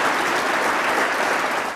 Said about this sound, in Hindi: तो इस एक बार ज़ोरदार तालियां हो जाए सभी के लिए।